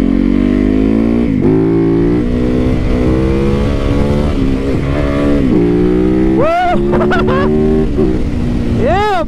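A supermoto motorcycle engine revs hard during a wheelie, loud and close, climbing through gears with repeated throttle rises and sharp blips, while a voice talks over it.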